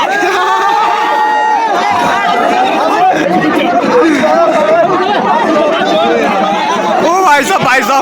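Loud crowd chatter and shouting fill the Nanda Devi Ashtami village fair in Jaspurkhal, Uttarakhand, a dense babble of many overlapping voices close by throughout.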